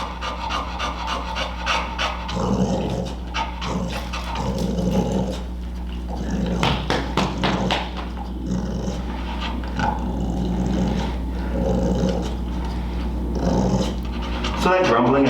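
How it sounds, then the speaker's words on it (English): A dog growls and grumbles in low rumbling bursts amid steady heavy panting, close and continuous, with a person talking over it at times. "So that grumbling and growling is not bad"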